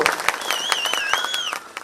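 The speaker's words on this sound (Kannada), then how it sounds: "ಈಗ ಹೊಡೀರಿ ಚಪ್ಪಾಳೆ ಅಂತ ಒಂದು" An audience at a Dr. Rajkumar birthday song-tribute event breaks into brief, close applause, with a shrill whistle riding over the clapping.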